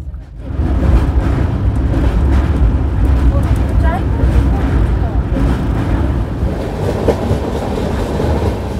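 Steady, loud rumble and rattle of the Bengaluru-Howrah Duronto Express running at speed, heard from on board with continuous wheel and carriage noise throughout.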